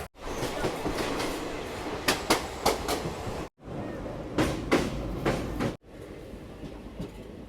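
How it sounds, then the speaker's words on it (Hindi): A Gaya Howrah Express passenger train rolls along after leaving a junction, with steady rail rumble and repeated clickety-clack bursts of wheels over joints, heard close from inside the coach; the sound cuts off briefly twice. "ये फिलहाल तिलैया जंक्शन से हमारी ये गया हावड़ा एक्सप्रेस निकल चुकी है।"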